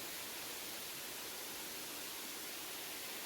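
Rushing water from a waterfall feeding a lily-pad pond or stream in Tishomingo State Park, an even, hissing wash of flow at low level, unbroken from start to finish.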